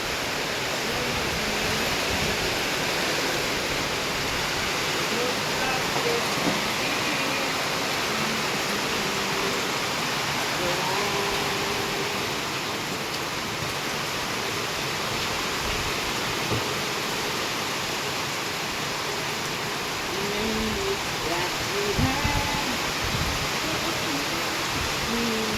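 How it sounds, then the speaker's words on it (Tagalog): Heavy rain pouring steadily on a house under construction with a roof, a dense continuous hiss with no breaks and no voices. "Tapos biglang bubuhos ng malakas na ulan."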